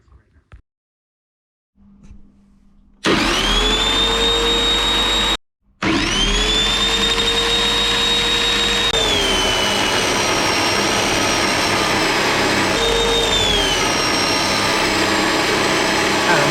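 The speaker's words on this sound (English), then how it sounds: "now I can get ready to start polishing and buffing" A loud, high-pitched drill whines continuously while polishing and buffing a metal sword guard, cutting out briefly once and then resuming, its pitch dipping as it presses into the metal.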